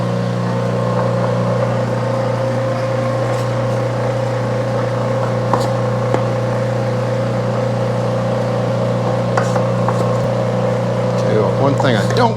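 An electric meat grinder works through venison and fat with a constant loud motor hum and faint crunching, close by, as a person talks over it.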